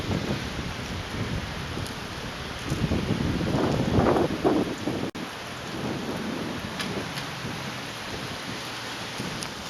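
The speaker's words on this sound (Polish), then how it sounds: "Wieje, leje i zimno." Heavy rain pours and wind blows in the Basque mountains near Pamplona, a steady loud wash of downpour with gusty rumble that swells midway and then drops back.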